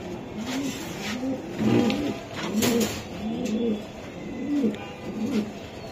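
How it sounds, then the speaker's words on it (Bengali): Black Neck Budapest pigeons coo in a steady, rhythmic series of low, repeated calls, close by under faint background noise. "এটা ব্ল্যাক নেক, ব্ল্যাক নেক বুদাপেস্ট ভাই, বুদাপেস্ট।"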